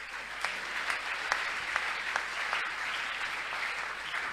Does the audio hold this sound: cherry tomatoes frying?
no